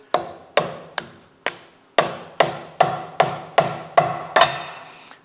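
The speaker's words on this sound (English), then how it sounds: "I take a rubber faced hammer here" A rubber-faced hammer taps a plate on the swing arm of a rail bending machine to knock it loose, giving eleven dull, moderately loud knocks in an uneven rhythm that speeds up toward the end.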